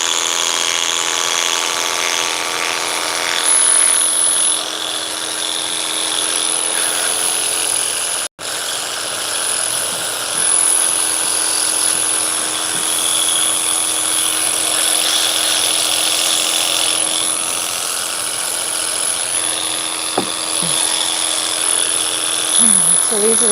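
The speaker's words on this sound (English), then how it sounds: "So these are the clippers." Electric horse hair clippers hum and whir steadily with a high motor whine, close by, briefly cutting out once before running on; someone speaks over them.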